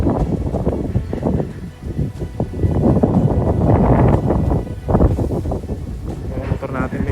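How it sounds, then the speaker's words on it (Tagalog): Strong wind buffets the microphone in a continuous low roar, gusting throughout on a mountain road by the sea, with a voice speaking over it now and then. "Medyo malakas na dito yung hangin."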